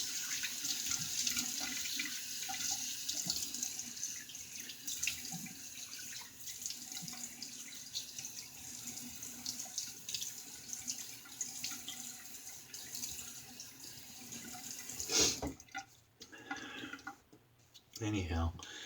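A faucet runs steadily for a quick rinse, the water flowing for a long stretch under soft background noise before cutting off near the end, with a few clatters after.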